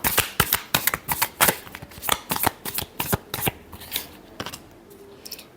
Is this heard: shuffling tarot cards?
yes